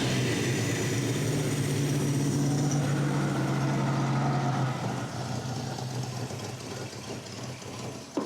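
A 1990 Toyota 4Runner engine running roughly, a loud, close, uneven idle with a low hum that drops and fades toward the end, no voices.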